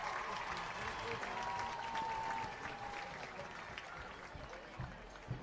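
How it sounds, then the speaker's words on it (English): Crowd applause for a 7th and 8th grade middle school volleyball team at a school sports event, a sustained wash of clapping from many people with some voices mixed in, heard from a distance. "Round of applause for our middle school volleyball team"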